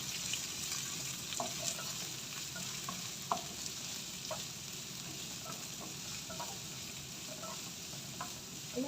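Chopped onion and green chilli sizzle quietly in a hot pan for a cabbage and carrot thoran, soft continuous frying with scattered light stirring clicks and scrapes; no talking.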